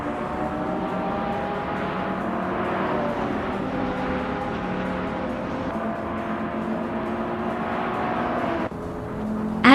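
A 1984 Audi Sport Quattro racing car engine in a video game drones steadily at high revs for several seconds, then shifts pitch abruptly near the end.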